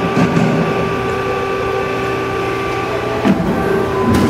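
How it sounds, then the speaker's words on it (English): A US Industrial 12-foot hydraulic shear cuts a ten-foot length of quarter-inch steel plate, giving a steady loud mechanical hum and grind with a few clanks toward the end. "Here we got a 10 quarter U.S. industrial hydraulic shear shearing a plate of 10 foot quarter inch."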